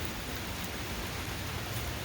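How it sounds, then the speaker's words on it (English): Steady rain falls outdoors during a garden potato harvest, a continuous even hiss of drops on surfaces with no other sounds on top. "you might have noticed it's raining outside"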